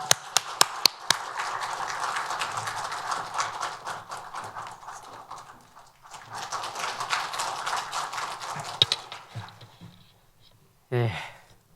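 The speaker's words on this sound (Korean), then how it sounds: "우리 선교사님 나오실 때 박수로 축복하겠습니다" A church congregation at a Korean Wednesday service claps in a steady, close patter to welcome a missionary, pauses briefly, claps again, then fades out before a short burst of sound at the end.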